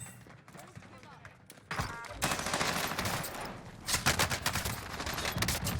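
STEN submachine gun firing in Call of Duty Warzone: rapid bursts of automatic fire that grow louder in the second half, with a voice talking over the shooting.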